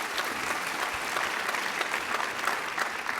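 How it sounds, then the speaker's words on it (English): Audience applause at an education keynote session honoring teachers, a steady wash of many hands clapping throughout, fairly even and moderately distant with no talk over it. "Actually, I'd love to give them a round of applause if people are there."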